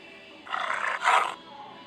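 A tiger roars in two close, loud bursts, the second slightly stronger, then falls quiet.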